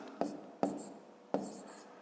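A pen writes numbers by hand on paper for an addition check in a fifth-grade maths exercise, three quick close scratchy strokes, each with a sharp start and a soft trailing rasp, faint and without talking.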